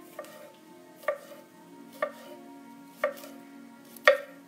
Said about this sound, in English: we can start chopping now the pepper.